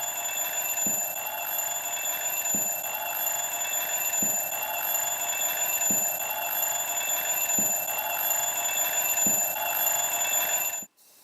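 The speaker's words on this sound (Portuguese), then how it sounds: "À medida que o ar vai entrando, o som do despertador fica mais intenso." An alarm clock rings steadily inside a glass bell jar as air is let back in, a continuous metallic ringing with faint periodic ticks, ending abruptly.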